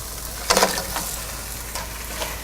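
Cleaned crab pieces drop into a pan of sautéed tomato for crab roast, giving a short burst of sizzling with a few clatters, then a steady quieter frying hiss and occasional stirring scrapes.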